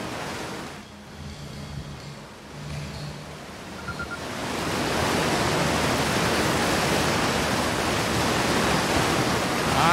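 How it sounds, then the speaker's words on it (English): A waterfall in the video game Outer Wilds rushes as a broad, steady roar that swells louder and stays dense and continuous through the second half. "I'm behind the waterfall."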